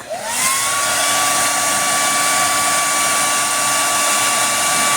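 A hair dryer blows steadily and loudly to heat a stiff hand on a 1999 ReSaurus Speed Racer action figure. It spins up at the start, then holds a constant whine and rush of air for about five seconds with no talking.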